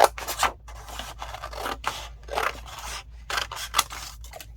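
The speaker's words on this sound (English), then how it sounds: "let me cut the rest of these really quick" Scissors cut through paper scraps in several quick snipping bursts with short gaps between them, close and clear, with no talking.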